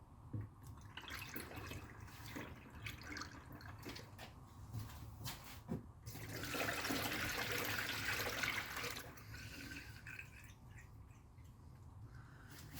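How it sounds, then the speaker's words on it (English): Coolant is poured into the expansion tank of a BMW F30 328i, a faint trickling and gurgling of liquid that swells louder midway and then eases off, with no talking. "Grab the rest of our coolant. Just gonna top it up."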